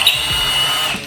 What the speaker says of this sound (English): Right now I'm trying to get the balancer bolt off